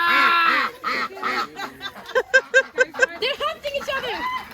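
A flock of hungry ducks in rural Vietnam quack loudly in quick rapid bursts, close up, while people talk and laugh over the noise.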